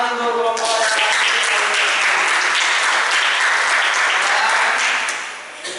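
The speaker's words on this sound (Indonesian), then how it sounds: "Bu, tepuk tangan untuk kelompok" A classroom of students applauds a presenting group, loud dense clapping that follows a short voice at the start and fades near the end.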